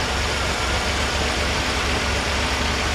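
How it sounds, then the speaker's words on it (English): Steady low engine rumble of a 1966 Chevrolet Corvair idling a little fast, continuous and even throughout, close by with no talking. "It's still idling a little bit fast."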